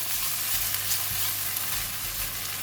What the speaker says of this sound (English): We're going to stir fry until the vegetable and onion is cooked.